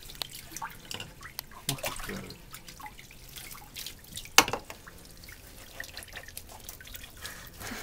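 Water drips and splatters while a wet Sheltie dog is wrung out after a bath, scattered close drips and small splashes with one sharper splat, quiet and without talk.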